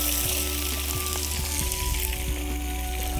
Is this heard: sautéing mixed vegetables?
yes